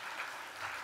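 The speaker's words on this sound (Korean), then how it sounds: "우리 박수 한번 할까요?" A church congregation at a Sunday afternoon service applauds, a brief, soft wash of many hands clapping together, heard from a distance.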